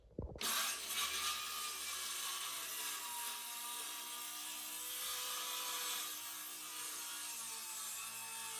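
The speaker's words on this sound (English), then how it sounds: "clamp it down, and then run my circular saw across" A circular saw cuts along the uneven edge of a reclaimed wood plank, a loud continuous whining rip that starts abruptly and holds steady throughout.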